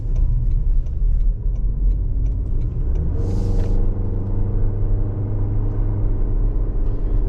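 A 2024 Toyota Grand Highlander Limited 4WD SUV driving down the road, heard as a loud, steady low rumble of road and engine noise, with the engine note rising about midway and a brief airy burst over it.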